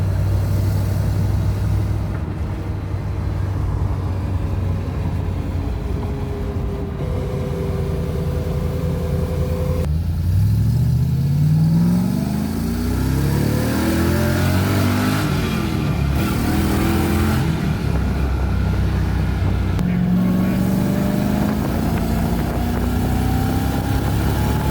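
An LS1 V8 swapped into a Nissan 240SX revs repeatedly, the engine note rising and falling in sweeping pulls over a steady idle rumble, loud and close throughout.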